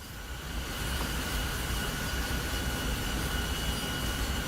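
A locomotive hauling an MBTA Boston commuter train in a train simulator rumbles steadily and loudly, a broad dense drone with a faint high whine running through it, no talk.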